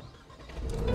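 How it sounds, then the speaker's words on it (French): Renault Megane IV RS with its 280 hp engine cranking and catching, a low rumble swelling into a near, steady idle over under a second. "On démarre l'engin."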